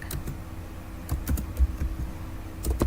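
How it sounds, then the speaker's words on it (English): Steady typing on a computer keyboard, irregular clusters of close, crisp key clicks with no voices. "Now we have to type the paragraph."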